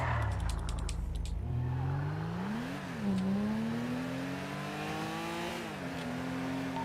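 A car engine revs alone, its pitch climbing, dipping and climbing again in a couple of sustained surges over steady motor drone, fairly close and moderately quiet with no talk.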